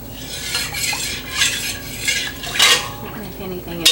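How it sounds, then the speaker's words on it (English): Milk for homemade yogurt being stirred in an Instant Pot's metal inner pot: loud repeated swishes and scrapes of a utensil against the pot, close up, in uneven strokes with no talk. "I'm just going to stir that a little bit"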